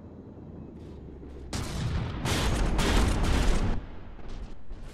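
Artillery guns firing in a naval combat video game, a heavy blast followed by a longer roaring burst of gunfire over a quiet rumbling background.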